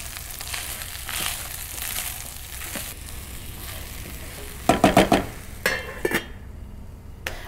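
Vegetables for a mushroom rice pilaf sizzling steadily in a frying pan, with a burst of scraping, clinking stirs near the end before the sizzle carries on alone.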